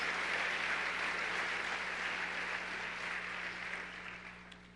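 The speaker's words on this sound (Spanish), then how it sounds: "Dele un fuerte aplauso al Señor." A church congregation applauds the Lord in a dense, steady wash of clapping that stays strong and then fades slightly toward the end, with a constant low hum beneath it.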